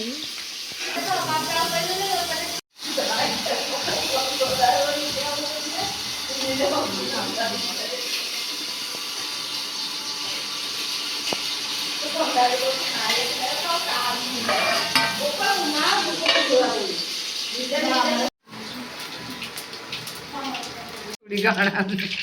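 Cauliflower and potato fry in hot oil, a continuous sizzle and hiss running under steady nearby talk, with a couple of brief breaks in the sound.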